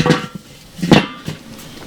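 A grill lid closes over tri tip with a couple of short metallic clanks and rattles, close and fairly loud, with quiet pauses between them and no talk.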